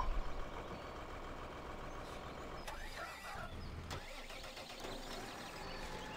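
A tractor engine in the farming game Landwirtschafts Simulator 13 starts up and settles into a steady mid-pitched idle rumble, fairly faint, with a brief mechanical clunk partway through.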